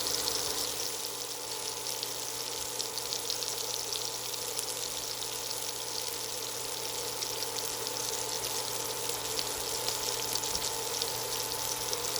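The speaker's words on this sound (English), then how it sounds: "after we fry our sausage" Sausage frying in a pan for an American breakfast, a loud, dense, continuous sizzle and crackle close by that holds steady throughout with no talking.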